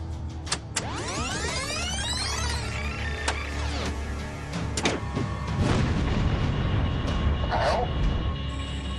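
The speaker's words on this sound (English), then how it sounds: "Can we hear that explosion again?" Replayed tape recording of an explosion at an aircraft's touchdown: a dull boom amid dense rumbling noise, with sweeping tonal whines and several sharp transients spread across the recording.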